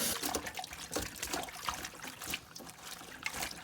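Tap water runs and splashes softly while half a pound of napa cabbage leaves is washed by hand, a faint, uneven trickle with small bursts of spatter.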